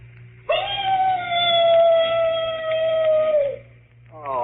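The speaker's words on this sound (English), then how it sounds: "The mournful howl of a dog" A dog howl used as a ghost-story sound effect plays as one long, steady, mournful wail that holds for about three seconds and then fades, followed by the start of another rising howl.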